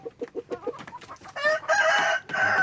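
Free-range village chickens in a coop: a quick run of clucks, then loud, close crowing calls, with no voices.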